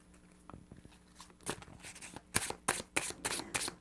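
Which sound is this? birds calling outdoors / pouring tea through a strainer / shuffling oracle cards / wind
shuffling oracle cards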